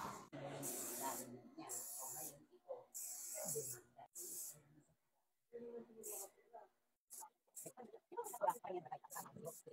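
Hydropel waterproofing spray hisses from an aerosol can onto a shoe in several close, loud bursts separated by pauses, with a person talking between the sprays.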